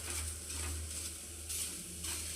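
Onion sautéing in oil in a pan while cooking a potato bhaji, giving a steady close sizzle with soft stirring scrapes that swell briefly in bursts, with no voices.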